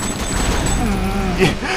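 Gunfire and explosions from the open-world action game Sleeping Dogs: a dense, continuous fusillade of shots with a louder blast near the end, heard under a man's excited speech.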